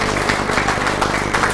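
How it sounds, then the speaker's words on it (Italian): Steady, dense applause from an audience at a memorial award ceremony, a close, continuous wash of clapping with no breaks. "vi lasciamo un bel applauso"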